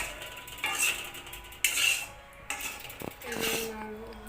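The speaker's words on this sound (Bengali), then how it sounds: "গুড় পাকটা একটু নাড়া দাও" Thick jaggery syrup for sesame laddus is stirred in a metal pan, with several scraping clinks of the spoon against the pan at close range and some background clatter.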